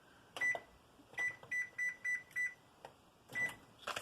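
An oven control panel gives about seven short, clear electronic beeps in an uneven rhythm while the preheat is set to 375, heard close up against a quiet kitchen.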